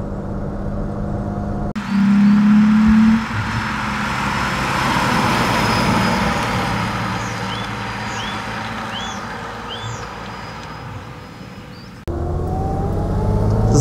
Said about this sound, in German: also er zieht schön durch, Motor läuft klasse, jetzt dritte Gang